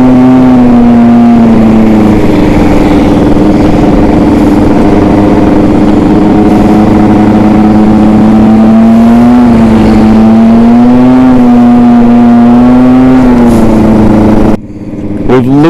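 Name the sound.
70cc street race Jog scooter being ridden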